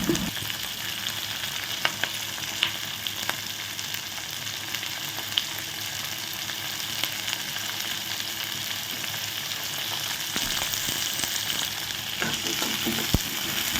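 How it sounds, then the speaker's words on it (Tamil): Capsicum and onion sauté in oil in a kadai for capsicum thokku, giving a steady, close, dense sizzle with occasional light scrapes and clicks of stirring. "இப்போ பார்த்தீங்கன்னா கேப்சிகம் ஆனியன் நல்லா வதங்கிடுச்சு"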